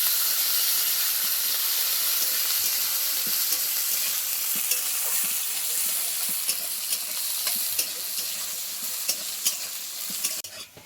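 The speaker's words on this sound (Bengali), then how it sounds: "আলুটা দিয়ে খুব ভালোভাবে ভেজে নিতে হবে।" Diced potatoes fry in hot oil with a loud, dense sizzle and hiss, broken by frequent sharp clacks and scrapes of stirring throughout.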